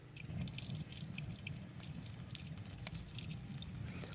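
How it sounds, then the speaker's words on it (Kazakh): Cooking oil poured into a kazan makes a soft, continuous liquid pour with a low rumbling undertone and a few light drips, faint and with no voices. "Қазанға май құйып, қыздырып аламыз"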